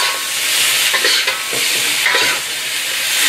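Onions with sugar stirred in a hot frying pan, a loud continuous hiss of sizzling oil with a few soft scraping strokes, close and dense throughout.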